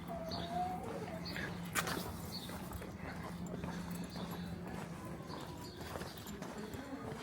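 Faint dog sounds, a few soft whimpers and yelps, drift in from a distance over quiet outdoor background noise at a train station in Scotland.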